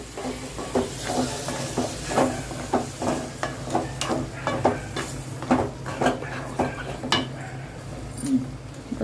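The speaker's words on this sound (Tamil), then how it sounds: "இன்னைக்கு தேங்காய் பால் எடுக்கல தேங்காய் அப்படியே அரைச்சி ஊற்றுறேன்" Ground coconut stirred into a simmering pot of vegetable kurma gives repeated scraping and clinking stir strokes, moderately loud and close, with a faint sizzle underneath.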